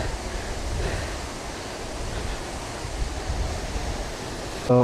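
A dense, steady roar of rushing water from a tall forest waterfall fills the air without letup, broad and constant like falling water nearby.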